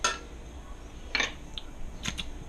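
Kitchen utensils and dishes clink and clatter as they are washed, a few sparse metallic knocks and scrapes close by, with no talking.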